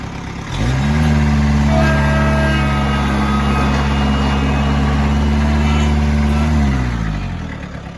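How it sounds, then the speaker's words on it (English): A John Deere 24A skid steer starts up and runs at a steady, loud, close idle-to-rev hum for several seconds before winding down, with no talk over it. "It's a neat little skid steer. Uncle got it off of another guy."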